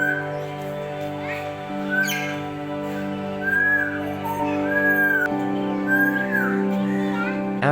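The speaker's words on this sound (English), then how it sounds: "African gray parrots make the zoo's atmosphere relaxing with their soothing sounds" African grey parrots at Lahore Zoo giving a series of clear, rising whistles at intervals over a steady musical background, fairly close, with faint voices of children and other birds around them.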